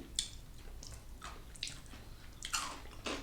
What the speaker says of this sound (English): You see, the two of us just kept eating.